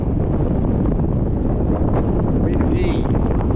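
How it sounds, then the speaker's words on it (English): Strong wind batters the microphone on an exposed mountain hike, a loud, continuous rumbling buffet with brief sounds near the end. "Windy."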